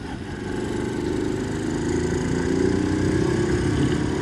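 A Honda C90 motorcycle engine runs steadily on a new carburettor after warming up. It gives a continuous, buzzy mid-pitched drone that rises slightly in loudness, close by and with no voices.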